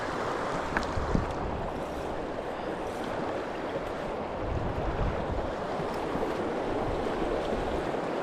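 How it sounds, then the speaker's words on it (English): Steady upstream wind over a central Pennsylvania trout stream, a continuous broad rushing roar of wind buffeting the microphone mixed with flowing water, loud and unbroken throughout with no talk. "Stop blowing, wind. Man, that upstream wind is a killer."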